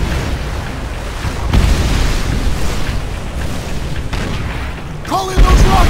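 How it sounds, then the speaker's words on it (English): Rocket strike explosions on a beach battle in Call of Duty: World at War, rolling heavy booms and rumble layered with gunfire and shouted voices, continuous and loud throughout. "Call in rocket strikes on those positions"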